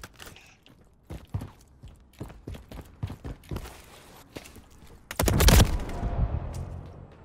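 Bursts of heavy gunfire in the Modern Warfare 3 beta, with scattered sharp shots giving way to a loud, dense volley near the end, close and prominent with no talking.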